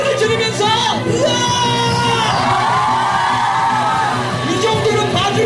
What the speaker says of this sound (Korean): 자, 이번에 소리를 지르면서, 우와!